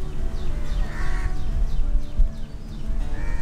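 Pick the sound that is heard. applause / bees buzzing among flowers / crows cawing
crows cawing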